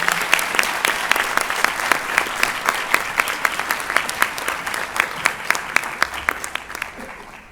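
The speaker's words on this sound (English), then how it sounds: "Let us now give all of these graduates a big hand of applause for all of their work and" A graduation ceremony crowd at the University of Pretoria's Centre for Human Rights gives steady applause, a dense bed of clapping with sharp individual claps popping out rhythmically, continuing for several seconds before tapering.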